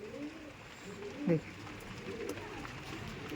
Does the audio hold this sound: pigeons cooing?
yes